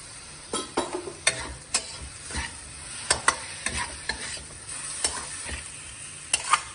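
Two medium tomatoes frying in a pan, a constant close sizzle punctuated by irregular taps and scrapes of a spoon stirring them.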